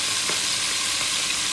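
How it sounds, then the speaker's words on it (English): Ground beef sizzling and frying in a hot pan while being sautéed for a baked ziti casserole: a steady, dense, close hiss that stays even throughout, with faint stirring scrapes and no talking. "I am going to add our ground beef. And you want to hear that sizzle."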